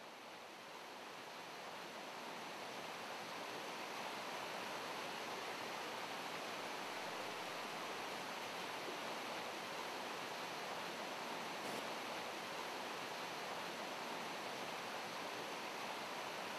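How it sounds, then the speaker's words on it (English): A steep, narrow mountain river in the Alps rushing continuously, a dense, even roar of flowing water that stays loud and unbroken throughout, with no voices. "Here in the Alps, where the water has only traveled a few kilometers, the river is still very steep, has a narrow channel and a limited water discharge."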